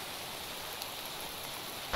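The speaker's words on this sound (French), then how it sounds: "Il n'arrête pas de pleuvoir hein, depuis tout à l'heure." Rain falls steadily in the TerraFirmaCraft video game as a faint, even hiss, with a brief louder sound at the very end.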